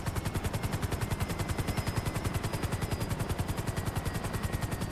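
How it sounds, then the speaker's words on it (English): Rapid automatic gunfire in GTA 5 Online, a dense, evenly spaced stream of loud shots running the whole way through without a break and with no voices. "We getting shot?"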